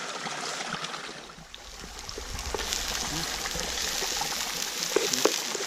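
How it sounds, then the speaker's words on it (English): Parasol mushrooms and white garlic cloves frying on a Swedish candle stove outdoors, a soft steady sizzle and crackle with scattered pops, fairly quiet and continuous. "And just put the parasol mushrooms on, and the white garlic cloves"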